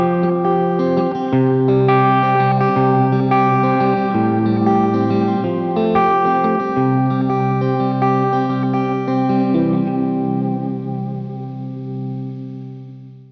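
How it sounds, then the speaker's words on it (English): Sustained synth chords swell through a KMA Audio Machines Cirrus reverb pedal set to a modulated reverb, loud and shimmering with chorus-like wobble, then the wash slowly decays and thins out over the final seconds. "Just show the decay and bring the reverb down a bit more."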